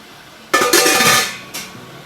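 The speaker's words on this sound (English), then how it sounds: "Put on the lid." A metal lid set onto a boiling-water canning pot for processing Honeycrisp apple-cranberry conserve gives a sharp clatter, a short ringing scrape, then a second lighter clink, close and alone.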